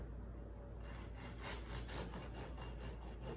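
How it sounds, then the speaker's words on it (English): A serrated knife saws back and forth through nutty biscotti, a quiet, rhythmic rasping of about ten strokes heard up close with no talk. "Gently, gently back and forth, just a gentle sawing motion, just to cut through the nuts."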